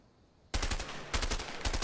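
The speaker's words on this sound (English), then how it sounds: "Brand new MP5. Perfect for close quarters combat." Bursts of MP5 submachine gun fire in the video game A Way Out erupt after a quiet moment, three loud, close rapid volleys in quick succession.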